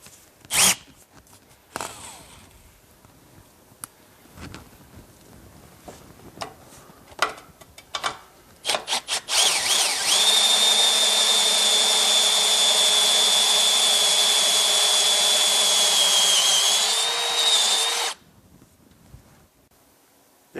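A step drill bit boring a hole to 3/4 inch in a truck's cross member, preceded by scattered clicks and handling knocks, then a loud sustained whining grind of about eight seconds that stops abruptly, close and with no talk.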